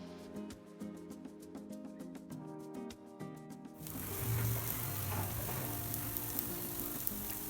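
Beetroot cutlets shallow-fry in oil, the faint early passage giving way to a fuller, steady sizzle that carries on close and continuous without talk.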